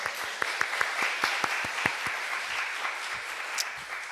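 Applause from a church congregation honoring two members, a steady patter of many hands clapping with sharp individual claps, fairly close and filling the space, fading out near the end.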